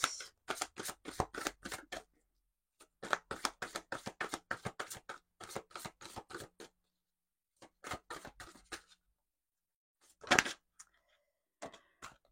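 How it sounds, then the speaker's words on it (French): Oracle cards are shuffled by hand in quick crisp bursts, riffling in short runs separated by pauses, followed by a few softer card-handling sounds as cards are drawn, close and quiet. "On va prendre quelques cartes de l'oracle Lumière de Fée, donc de Valérie Mottet."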